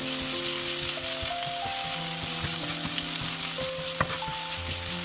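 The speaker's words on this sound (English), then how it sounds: "Now it is time to fry the sliced onion. Stir on medium heat until they are tender and pale in color." Sliced onions frying in hot oil on medium heat for an eggplant and potato curry, a continuous close sizzle broken by occasional stirring scrapes, steady and fairly loud with no voices.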